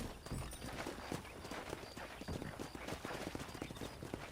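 Hooves of a horse in the video game Red Dead Redemption clip-clop in a quick, uneven rhythm, fairly close but quiet, like trotting over hard ground.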